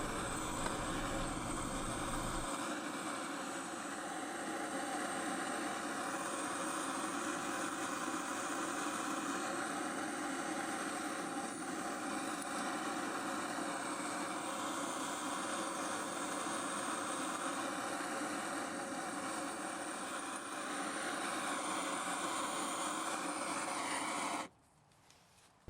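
A gas torch heating copper oxide powder roars in a steady, loud, even hiss that holds unbroken for over twenty seconds, then cuts off abruptly near the end.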